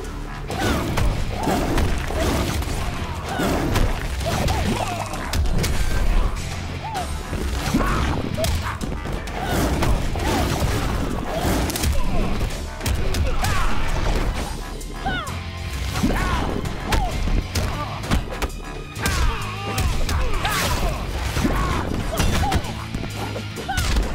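Loud, dense fighting sounds from the video game Mortal Kombat X: constant thuds, smashes and whacks of blows landing, with game voices and effects layered over the whole stretch.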